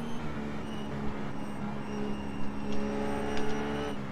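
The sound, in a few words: GT3 race car passing in iRacing video game at Silverstone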